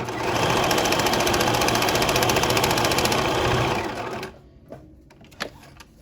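Sewing machine running steadily while stitching a small quilt, a loud continuous rapid whirring for about four seconds that stops abruptly, followed by a few faint clicks and handling sounds.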